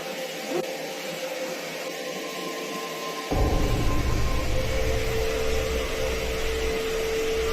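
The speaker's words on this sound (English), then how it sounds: "casually vacuuming the hallway carpet" After a few seconds of quiet room hum, a vacuum cleaner on a hallway carpet switches on abruptly and keeps running as a loud, steady motor whine and airflow roar.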